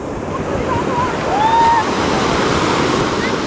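Ocean waves surging and crashing close by in a continuous loud wash, with wind buffeting the microphone and a brief high voice cutting in over the surf.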